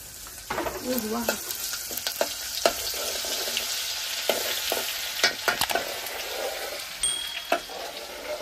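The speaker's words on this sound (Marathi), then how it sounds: "सगळ्यात आधी आपण टाकणार आहे लसूण अद्रकचा पेस्ट" Garlic ginger paste sizzles loudly in a pan over a wood-fired clay stove for mutton curry, a steady close fry broken by repeated scraping stirs of a spoon, with no talking.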